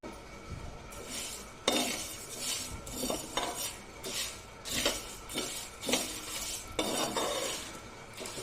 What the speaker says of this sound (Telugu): కొంచెం రెడ్డిష్గా వచ్చే వరకు వీటిని ఇలా ఫ్రై చేద్దామండి